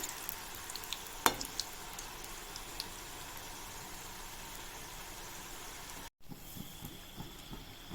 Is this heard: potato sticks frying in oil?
yes